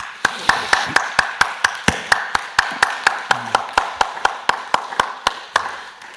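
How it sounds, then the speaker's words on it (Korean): A church congregation at a dawn worship service claps in praise to God, sharp claps landing in a fast, steady unison rhythm, loud and near, with a voice speaking faintly underneath. "우리 하나님께 오늘은 영광의 박수를 안 드릴 수가 없어"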